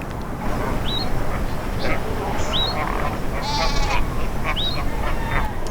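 A Cape fur seal colony at Robberg Nature Reserve near the Indian Ocean calls with repeated sheep-like bleats, several distinct cries rising over a steady rush of wind and surf.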